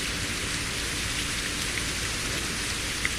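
Steady rain drums inside the On The Road truck-driving game, a dense continuous hiss that stays even and loud throughout with no voices.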